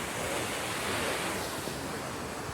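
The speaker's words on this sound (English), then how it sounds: "this might be the most beautiful waterfall I've seen" An Icelandic waterfall gives a constant, dense roar of falling water close by, with some wind buffeting the microphone.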